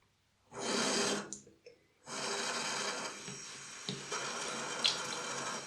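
Water runs from a bathroom tap to wet a face cloth at night, two bursts of steady hissing flow close by, with a brief pause between them and small splashes as the cloth goes under.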